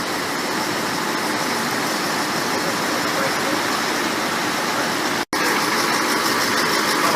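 Sprinter diesel railcars depart Broadmeadows station in Melbourne, a steady loud engine drone close by with continuous rumble and no talking.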